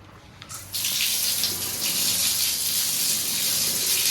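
Running water from a tap washing dust out of air conditioner filters: a sudden strong gush starts after a quiet moment and continues as a steady, close splashing hiss.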